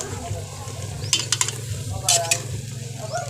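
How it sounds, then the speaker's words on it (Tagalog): Meat stirred in a frying pan, a steady sizzle under clustered metallic scrapes and clinks of the utensil against the pan, close and fairly loud. "Tapos halo-haluin natin yan para maghalo yung lamas o karne."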